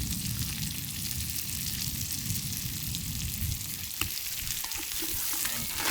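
Spicy curry crabs sizzle and fry in a pot over an outdoor fire on a Jamaican beach, giving a loud, steady crackling hiss, with stirring scrapes and a few clinks toward the end.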